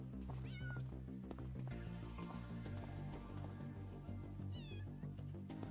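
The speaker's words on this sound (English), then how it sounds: "Way to go, kitty cat." A cat in the video game Farming Simulator 25 gives two short meows a few seconds apart, faint over a steady bed of in-game farm ambience and hum.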